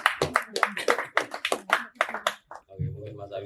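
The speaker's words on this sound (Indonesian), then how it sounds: "Tepuk tangan." Audience applause at a scouting panel discussion: a quick run of sharp, fairly rhythmic hand claps for about two seconds, then it fades as a voice begins speaking.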